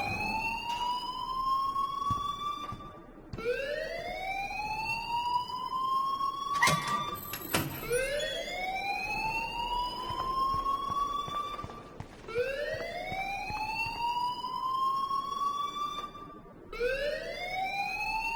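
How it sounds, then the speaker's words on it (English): A rising, wailing siren-like alarm repeating in long sweeping cycles of about four seconds inside a video game, steady and fairly loud with a few brief clicks between cycles. "please turn off that alarm"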